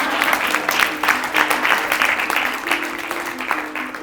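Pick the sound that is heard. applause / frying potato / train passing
applause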